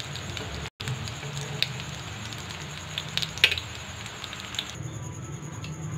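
Potato egg balls deep fry in hot oil with a soft, steady crackling patter and occasional brighter pops, fairly faint and close, with no talking.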